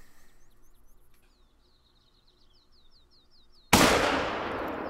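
A single loud, sharp hunting rifle shot in theHunter: Call of the Wild at a cornfield, cracking suddenly after a quiet stretch of chirping birds and trailing off in a long echoing decay.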